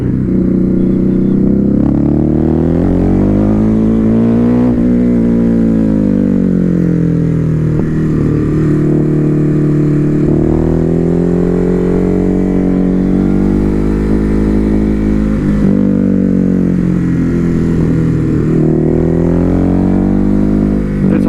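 A Ducati Hypermotard 950 motorcycle is ridden hard along a wet mountain road, its engine loud and close throughout, rising and falling steadily through the revs with no pauses.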